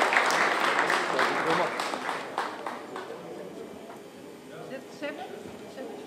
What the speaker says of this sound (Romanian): Aplauze pentru domnul Abaci Călin.